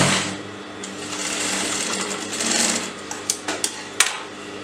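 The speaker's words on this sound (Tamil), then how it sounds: "இப்போ இந்த இடத்துலேருந்து பேக் சைடு தைக்கிறோம்." A sewing machine stitches a sleeve onto a garment, running a steady close whir for about three seconds, then breaking into a few short, sharp bursts of stitching near the end.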